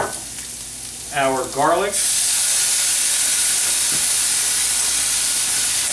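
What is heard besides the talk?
shallots, garlic and mushrooms sautéing in oil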